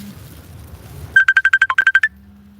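A phone ringtone bursts out as a rapid series of about ten loud, evenly spaced electronic beeps lasting roughly a second, after a low background hum, then cuts off to a steady low drone.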